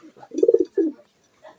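A Pakistani Lahori pigeon gives a short, close, throaty coo, a rolling phrase followed by a second brief note and a faint trailing murmur.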